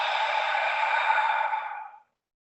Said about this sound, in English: the breath should sound like a soothing ocean